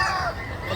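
Native chickens at a market in Calumpit, Bulacan, squawking and crowing in a dense, noisy jumble over a steady crowd murmur.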